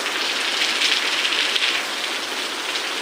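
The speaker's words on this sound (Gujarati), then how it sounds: "ગાઈસ તો કેવો વરસાદ આવે" Steady rain pours down in a dense, even hiss, close and fairly loud, with no voices.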